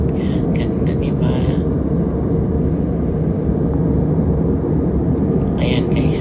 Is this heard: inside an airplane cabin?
yes